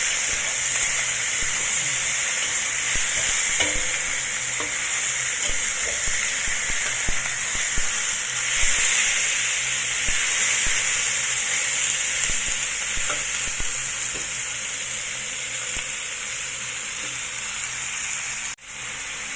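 Pork frying in a pan for adobo with mountain pepper, before water is added: a loud, continuous close-up sizzle and hiss that holds steady, with light scraping from stirring.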